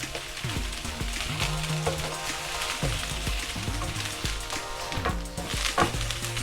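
Corn and snap peas char in a hot pan with a steady, close sizzle and crackle that holds for several seconds, with occasional soft clinks on top.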